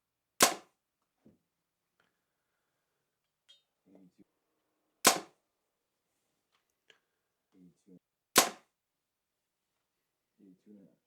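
A 2025 Truth 33 MG compound bow fired three times, each shot a sharp loud snap spaced a few seconds apart, with faint handling clicks and brief quiet talk in between.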